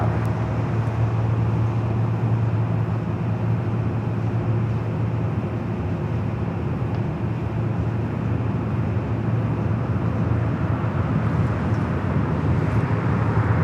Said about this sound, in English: Dreamliner heading to Tokyo Haneda